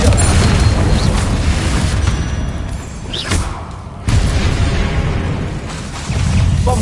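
Confringo fire spell blasts in Hogwarts Legacy during a spider fight, loud booming bursts with a dense roar of combat, strong hits near the start and again around the fourth and sixth seconds.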